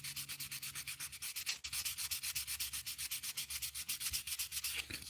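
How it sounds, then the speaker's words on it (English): Sandpaper rubs back and forth over a handmade musky crankbait in quick, even strokes, each pass a rasping swish, close and steady with one brief pause, no talking. "I'm getting tired doing this sanding"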